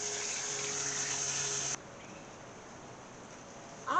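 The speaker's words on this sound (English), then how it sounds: "We're going to just lay it out and rinse it one more time." Water runs from a tap as a tie-dyed shirt is rinsed, a steady close hiss that cuts off abruptly partway through. Quiet room tone follows, then a short rustle at the end.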